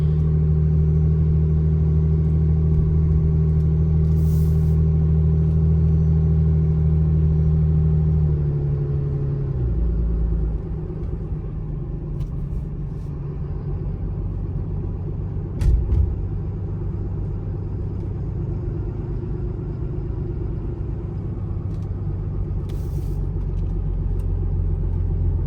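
A 2017 Ram 2500 Laramie 4x4 with a Cummins diesel drives uphill, a steady low engine drone heard from inside the cab that shifts pitch partway through as it keeps pulling, with no talking.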